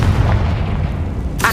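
Confringo blasting spell detonating in the Hogwarts Legacy video game: a dense, loud low-end rumble of magical explosions held through the clip, with a brighter burst flaring at the very end.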